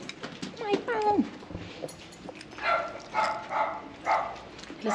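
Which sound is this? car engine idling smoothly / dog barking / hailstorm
dog barking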